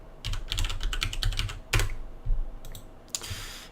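Rapid keystrokes on a computer keyboard while a hostname is typed into PuTTY, a run of close, crisp clicks in quick bursts with brief pauses, then a few more isolated taps, no voices.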